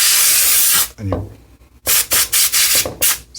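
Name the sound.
compressed air sprayed into HP ProBook 4530s laptop fan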